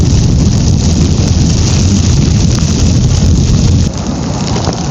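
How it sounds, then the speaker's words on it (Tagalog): Heavy rain pours down loudly and steadily at a hillside campsite, a dense hiss of drops drumming on surfaces close by, with no voices. "Lakas ng ulan"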